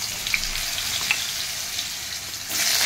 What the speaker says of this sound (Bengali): এবার আমি এর ভেতরে আলুটা দিয়ে দেবো। আলুটা ভাজা হতে থাকবে।